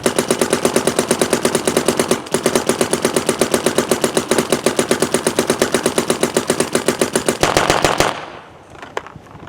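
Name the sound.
Planet Eclipse Gtek M170r paintball gun shooting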